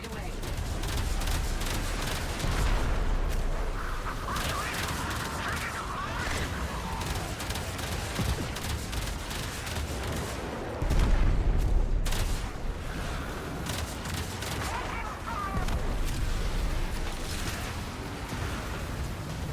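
Railjack ship guns in the game Warframe keep up a dense, continuous barrage of rapid gunfire and booming impacts, with a few louder bursts, while voices talk intermittently over the din.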